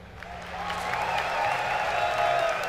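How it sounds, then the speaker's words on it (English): A crowd at a StarCraft tournament applauds and cheers at a distance, a steady wash of clapping with some whistles and shouts running throughout. "Let's hear it for Violet."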